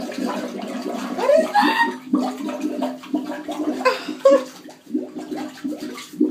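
A toilet at Mohegan Sun flushes on its own, a gurgling rush of water swirling and draining close by while people talk over it.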